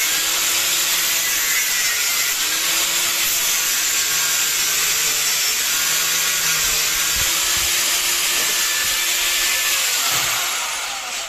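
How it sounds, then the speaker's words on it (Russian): An angle grinder cuts through the inner race of a wheel bearing welded to an ABS ring, a loud, continuous high-pitched hiss and whine that holds steady throughout, close up. "берем болгаркой, эту обойму внутреннюю аккуратненько разрезаем"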